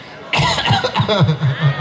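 Men in the crowd at a village torch war festival cough repeatedly in a rough, rhythmic burst close by, with a little chatter mixed in.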